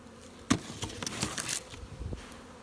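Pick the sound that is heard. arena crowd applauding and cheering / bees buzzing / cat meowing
bees buzzing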